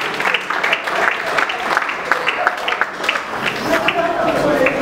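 Audience applause at a family gathering honoring a deceased man, steady moderate clapping from a crowd with voices talking underneath.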